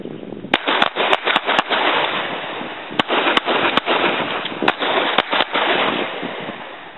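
Sharp gunshots from a shooting-in-motion drill at a combat-focused shooting course, about a dozen reports fired in quick irregular clusters, loud and close over a steady background hiss.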